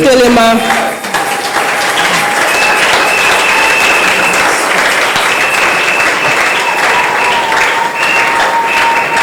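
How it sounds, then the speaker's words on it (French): A church congregation stands and applauds with cheering during a French-language worship service, a dense, loud crowd clapping that stays steady for the whole stretch, with voices mixed into the noise. "Tiens-toi debout en acclamant pour le Seigneur."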